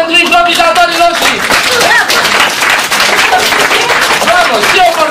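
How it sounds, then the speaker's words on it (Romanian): Live improv theatre audience applauding the performers, dense steady clapping throughout with cheers and a voice talking over it. "aplauze pentru improvizatorii noștri"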